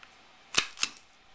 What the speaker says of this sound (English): Make sure they're against each other, and then punch it with your crocodile